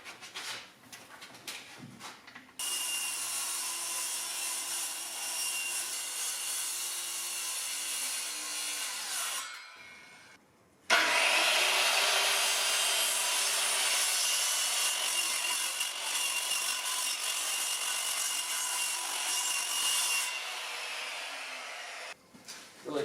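Power saw cutting through a 4x8 wooden wall panel sheet for the front wall of a small camper trailer, two long continuous loud bursts of sawing separated by a brief pause, no talking.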